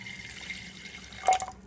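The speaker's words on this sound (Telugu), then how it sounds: "నీళ్ళు పోసుకొని" Water poured onto soaked toor dal with salt and turmeric, a faint close trickle that rises into a brief louder splash near the end, with no talking.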